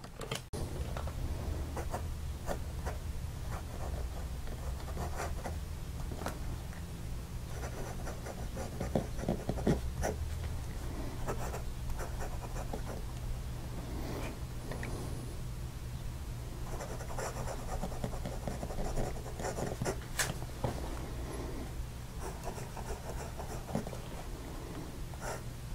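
A Jim Hinze Elementar fountain pen with a smooth nib writing on paper, giving a soft, steady scratching that runs continuously at close range with no talking.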